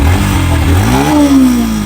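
A motorcycle engine runs loud and close, its pitch sliding up and down as it revs and settles.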